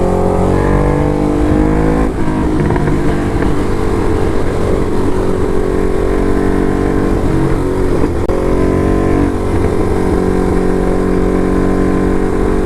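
Ducati Hypermotard SP motorcycle fitted with an SC Project exhaust, engine droning loud and steady at close range with rising and falling rev swells while riding, no voices heard.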